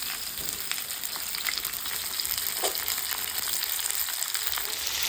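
Potato, sweet potato, carrot and radish fry in a pan for a vegetable labra, giving a steady, close sizzle with light crackles and no talk.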